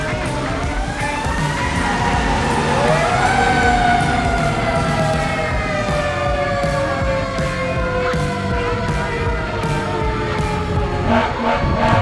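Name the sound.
fire engine siren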